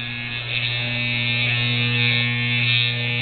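Singer 237 sewing machine motor running while sewing a wide zigzag stitch, a loud, steady electric hum with a faint regular pulse from the needle, close and continuous.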